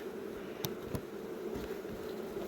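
Honeybees, Carpathian mountain bees, hum steadily around heavy honey-filled hive frames, a continuous close buzzing with a couple of brief sharp clicks near the start.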